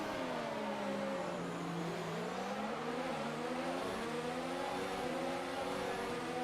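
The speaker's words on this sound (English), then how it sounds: "Get the revs going, 5 red lights." Formula 1 car engine in the F1 2019 video game at the Spanish round race start, a loud sustained high-pitched whine rising and falling as the revs are held on the grid, alone without talk.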